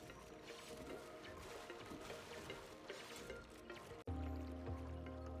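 Falling water in a survival-colony video game, a steady broadband trickle and splash running continuously, then a low mechanical hum rises sharply under it near the end; no voices.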